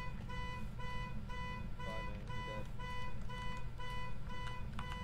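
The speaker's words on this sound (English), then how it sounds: "Turn off the alarm." An alarm beeps in a steady repeating pattern of short electronic tones, fairly loud and continuous through the whole stretch, with a few brief background knocks.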